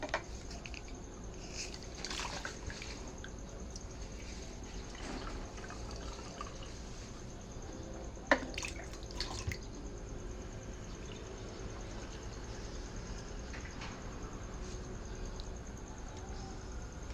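Water is poured into a spray bottle while mixing an organic pesticide, a soft, faint trickle with a few small drips and splashes, heard alone against quiet background hiss.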